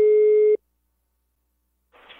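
A telephone call tone heard while placing a call: a single loud steady beep lasting about half a second, followed by silence and then faint line noise.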